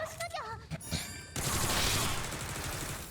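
Rapid bursts of gunfire in the video game Sword Art Online Fractured Daydream fill the second half, dense and loud, after a short stretch of electronic chirps and effects.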